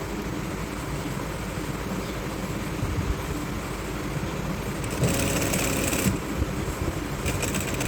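A sewing machine stitches lace onto a trouser seam, a steady fast mechanical whirr running continuously close by with brief brighter rattling bursts, no voices.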